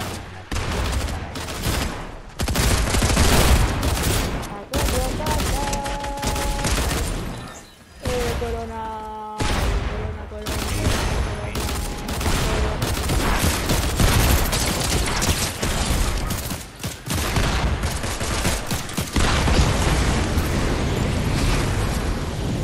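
Rapid bursts of video game gunfire and explosions, loud and dense, with brief pauses and people talking over the shooting.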